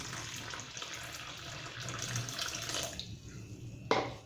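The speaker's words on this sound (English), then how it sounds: "And pour my water in." Warm water pours into a well of flour and oil for cinnamon chapati dough, a soft continuous splashing trickle that is faint and close, ending with a sharp tap.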